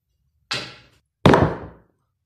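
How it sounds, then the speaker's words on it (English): A red snooker ball is chipped toward a corner pocket: two separate knocks, a lighter clack followed about a second later by a louder, fuller thud, each decaying quickly with no voices. "This red ball here, I'm going to chip into that corner pocket."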